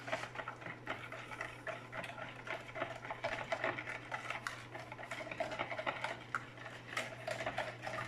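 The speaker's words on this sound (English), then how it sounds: "with your whisk, stir it up just to get your ingredients all kind of" A whisk clicks and taps rapidly against a bowl while mixing sugar and pie ingredients. The strokes are quick, busy and irregular, fairly quiet and close, over a low steady hum with no voices.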